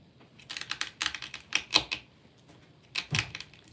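Bursts of quick keystrokes on a computer keyboard, clattering in uneven clusters with short pauses between, fairly close and alone with no talk.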